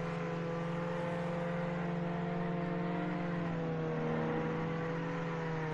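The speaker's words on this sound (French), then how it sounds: "Je suis en Lamborghini." Lamborghini engine in a video game, a steady humming drone held at constant pitch for several seconds, fairly quiet and with no voices.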